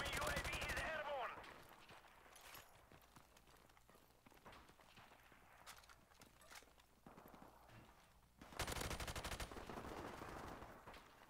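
G3 rifle gunfire in Call of Duty: Modern Warfare Remastered comes in loud rapid bursts at the start and again near the end, with quieter game sounds between.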